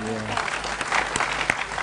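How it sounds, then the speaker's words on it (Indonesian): An audience at a public gathering with an East Java governor present claps in a dense, lively burst, with a voice briefly audible over the applause. "tepuk tangan yang meriah"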